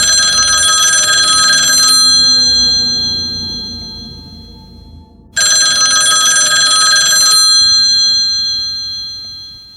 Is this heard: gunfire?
no